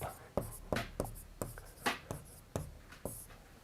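Chalk or marker strokes on a board while a math teacher writes the formula for the area of a triangle, giving sharp repeated taps and scratchy strokes at an uneven rhythm, close and clear, with no talking over them.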